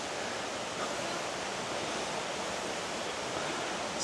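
Cagbuanga waterfall in El Nido, Palawan, a steady broadband rush of falling water that holds even and continuous from start to end, with no voices over it.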